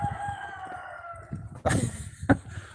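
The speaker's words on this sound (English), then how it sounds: "There's a chicken." A rooster in a Vietnamese village gives a crow partway through, rising over steady outdoor background noise with scattered bird calls and a sharp accent near the end.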